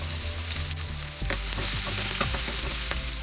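Roughly chopped onion and slit green chilies hitting hot oil over a medium-low flame, a steady close sizzle that rises at once, broken by scraping stirs and the clink of a spoon against the pan.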